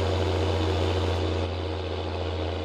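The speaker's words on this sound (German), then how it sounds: "die Traktoren sind ein bisschen zu laut" Tractor engines idle in the Farming Simulator 19 video game, giving a loud, continuous low drone with a steady hum and no talking.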